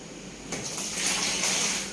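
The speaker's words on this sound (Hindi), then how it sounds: "तो हम 7 लीटर पानी एक खाली बाल्टी के अंदर लेंगे" Water gushing from a hose or tap into an empty bucket, a steady close rush that swells and roars for the rest of the moment with no talk.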